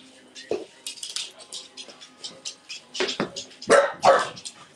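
A corgi barks in short sharp bursts indoors, several yips spread over a few seconds and loudest near the end, close to the mic.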